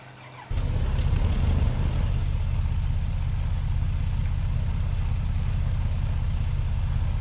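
A BN-2 Islander engine in Microsoft Flight Simulator catches after a brief quiet moment and then runs as a loud, steady, low droning rumble that holds constant to the end.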